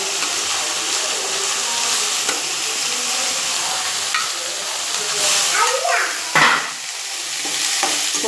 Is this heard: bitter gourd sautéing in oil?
yes